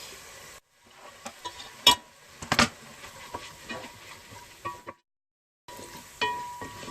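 Garlic sizzles with browned meat in a pan for a Turkish eggplant dish, a soft crackle broken by a few sharp stirring clicks and scrapes, with two brief moments of silence.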